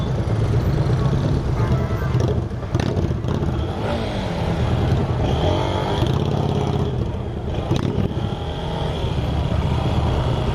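Motorcycles travelling together in a club convoy of about fourteen bikes heading to a moto club event, a steady loud engine drone close by throughout with passing vehicle noise and occasional clatter.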